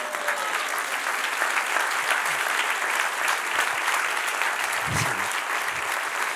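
A church congregation breaks into applause, a full, sustained wash of many hands clapping that stays loud and steady from start to finish, with no clear speech on top.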